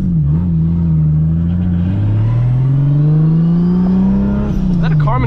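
A Nissan 300ZX Z32 fitted with a 2JZ-GTE engine drives along, its loud, steady engine drone rising slowly in pitch as it accelerates, heard from inside the car with a brief voice near the end.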